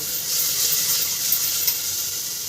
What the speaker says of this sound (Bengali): তো প্রথমে সবজিগুলো মামার জন্য একটুখানি 2-3টে জিরে আর একটুখানি আদা দিয়ে ভেজে নিচ্ছি ভালো মতন।